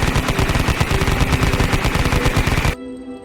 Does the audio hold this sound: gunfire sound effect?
yes